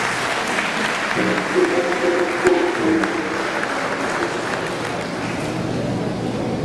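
Applause fills a Catholic church as the congregation claps steadily and densely, with a few voices faintly audible underneath.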